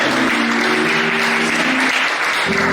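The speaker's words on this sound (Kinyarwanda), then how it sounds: "Reka dukomere abaririmbyi amashyi bari kwicara" A church congregation claps for the singers after a worship song, a dense, steady wall of applause running throughout, with a faint sustained musical tone humming underneath.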